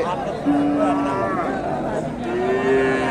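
A Friesian bull lows at a busy cattle market in Dakumara, with two drawn-out moos heard up close over a background of crowd chatter and voices.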